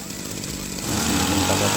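A small petrol spray pump engine running close by, a buzzing two-stroke drone that grows louder and rougher partway through.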